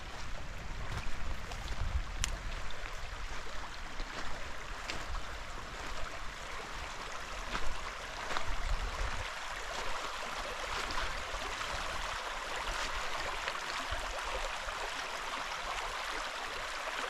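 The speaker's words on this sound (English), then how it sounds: "I don't think that there's anything that sounds better than running water." Water in a winter stream runs steadily, a soft continuous rushing and burbling heard close by without any talk, with a few faint knocks and thumps scattered through it.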